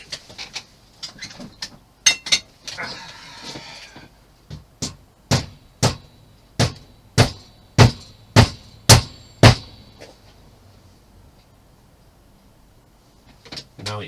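A big hammer strikes a part on an Emhar model tipper truck kit, delivering a close, loud series of about a dozen sharp knocks that settle into an even, steady rhythm before stopping.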